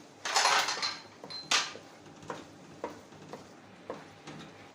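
A spatula scrapes and knocks against a kadhai as besan (gram flour) is stirred and roasted for halwa, with a few loud clatters followed by softer rhythmic scrapes, close by and with no talking.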